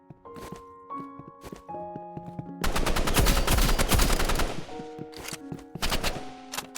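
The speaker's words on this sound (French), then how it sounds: "Waouh, enfin tu me mets une balle." Rapid bursts of video game gunfire, loud and close, with a dense stretch of sustained automatic fire in the middle and scattered single shots before and after, over tonal game music.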